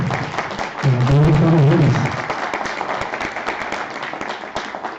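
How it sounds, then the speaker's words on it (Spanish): Scattered clapping from a small audience at a public-servant forum on gender issues runs throughout, moderately loud, with a voice briefly speaking or calling out over it early on. "Un aplauso, por favor"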